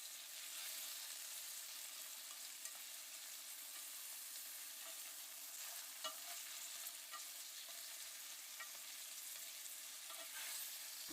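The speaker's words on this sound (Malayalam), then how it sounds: "അതിൽ കുറച്ച് ഉപ്പും കൂടി ചേർത്തിട്ട് നന്നായിട്ടൊന്ന് സോട്ട് ചെയ്യുക." Sliced onions with salt sautéing in a pan for a Kerala-style chicken stew, giving a steady, even sizzle with faint scattered stirring clicks throughout and no voices.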